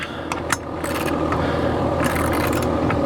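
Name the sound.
HVAC unit purring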